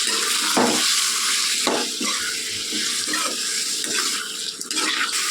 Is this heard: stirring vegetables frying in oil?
yes